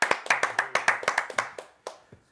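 A small group claps in a short, uneven burst of about a dozen sharp close hand claps at a podcast recording, thinning out and stopping after two seconds.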